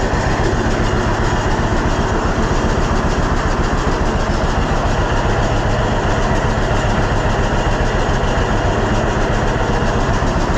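A John Deere B tractor engine rumbles steadily and loudly throughout, a dense low mechanical drone with a faint rhythmic chugging, no voices.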